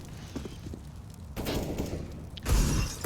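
Gunfire in Counter-Strike: Global Offensive during an esports match, a few sharp shots and bursts, the last one loudest, under faint background noise.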